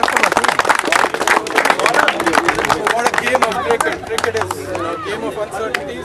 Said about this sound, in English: Let's give a round of applause to both the teams.